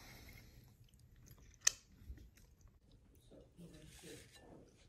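Someone bites into and chews a Levain Bakery dark chocolate cookie with a gooey, chewy middle, giving one crisp bite followed by soft, close, moist chewing under faint background noise.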